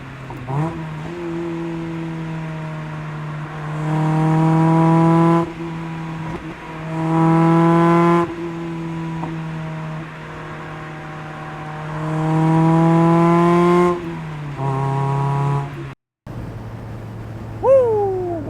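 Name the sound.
sports car engine accelerating hard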